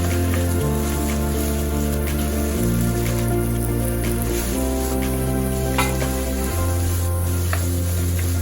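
Rice frying in a pan as soy sauce is added, a loud continuous sizzle with crackling and faint stirring close up, over a steady background music bed.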